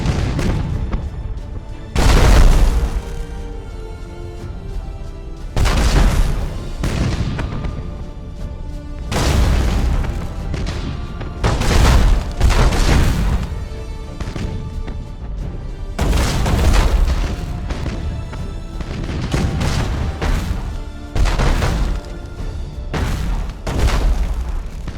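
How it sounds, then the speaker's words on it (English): Broadside macro cannons on a space warship in Battlefleet Gothic: Armada fire at a defense platform, heavy booming volleys repeating every few seconds, loud and rumbling with crashing tails. "Broadside macro cannons ready to fire on your order"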